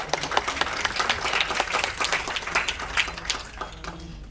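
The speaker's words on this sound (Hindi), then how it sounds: "एक बार जोरदार तालियां" An audience at an award ceremony claps steadily, with a dense, even patter of many hands that continues without pause.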